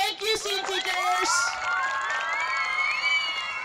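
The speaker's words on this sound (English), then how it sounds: "could you join me in cheering on your teachers in this month of Teacher Appreciation Month?" Students at Seaton cheer and shout for their teachers during a Teacher Appreciation Month surprise event in Washington, D.C., a burst of high children's voices forming a loud, sustained crowd roar that swells and holds throughout.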